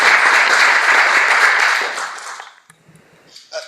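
Audience applause welcoming a professor at a lecture on human nature and public policy, a loud dense burst of clapping that fades out after about two and a half seconds, followed by faint room noise.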